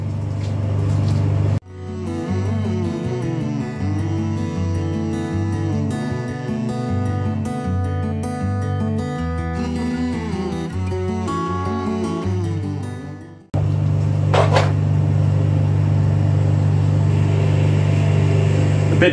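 A pressure washer's motor drones loudly and steadily while its lance rinses a car, cutting out briefly before starting again with a strong hum and spray.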